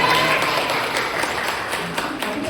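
Teachers and education staff at a school gathering give a thin, scattered round of clapping with a few distinct sharp claps over a murmuring room.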